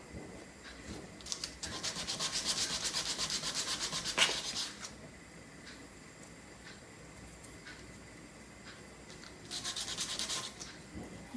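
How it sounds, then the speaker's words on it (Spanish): Sandpaper rubs back and forth against a small stopper for a handmade dart in two bursts of scratchy strokes, close and fairly quiet, with a pause between them. "nos toca lijarlo un poquito para quitarle todo ese sobrante"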